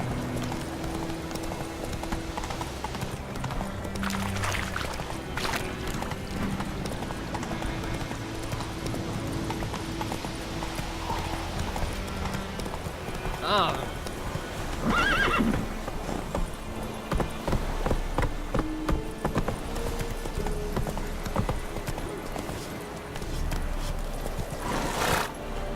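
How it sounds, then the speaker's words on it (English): A horse in The Witcher 3 gallops with steady, rapid hoofbeats under a busy game soundscape, with a brief neigh partway through and louder clatters near the end. "Whoa there, Roach."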